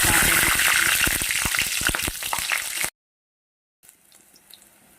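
Black cumin and spices dropped into hot oil in a pan hiss and crackle loudly and densely, the sizzle easing slightly before cutting to silence, then a faint, quiet frying resumes.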